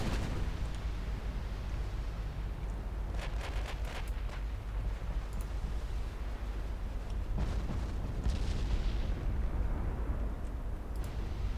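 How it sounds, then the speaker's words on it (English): Torpedoes striking warships in a 1954 naval battle game, several dull booming impacts over a constant rumble of stormy seas and wind, with sharper crackling bursts scattered through. "My torpedoes are hitting home."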